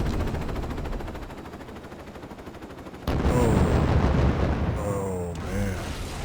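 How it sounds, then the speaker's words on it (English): Helicopter-launched folding fin aerial rockets from an Apache in Arma: Cold War Assault: a steady rumble of firing, then a sudden loud salvo of explosions with rolling blasts and whistling debris, fading slightly. "Gave him some folding fin aerial rockets."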